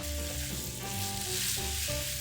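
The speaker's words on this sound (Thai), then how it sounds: "ใส่น้ำปลาข้างกระทะ ให้เขาระเหยออกสักพักหนึ่ง" Fish sauce hisses and sizzles steadily in a hot frying pan of garlic-and-oil pasta with chicken, a continuous close crackle with faint stirring clatter and no talking.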